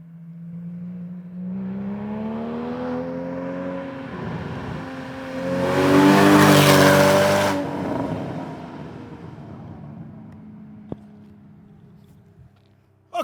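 Porsche Cayman fitted with a FabSpeed exhaust drives by, its loud raspy exhaust note rising as it accelerates, peaking in a roaring pass, then fading to a distant drone.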